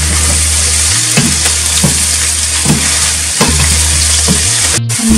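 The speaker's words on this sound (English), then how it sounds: "Stir the broccoli for 2 minutes, and then I will add the zucchini." Broccoli pieces stirred in a frying pan for a chicken and vegetable stir fry, with a steady close sizzle, a low hum underneath and repeated spatula scrapes and clatters roughly every second.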